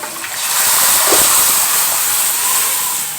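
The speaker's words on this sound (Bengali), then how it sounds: "এবার আমি প্রেসার কুকার ধরে একটু ঢেলে একটু ফুটিয়ে নিব" Dal poured from a pressure cooker into a pot comes to a boil with a steady hissing, bubbling rush, close and fairly loud, holding an even texture for a few seconds without voices.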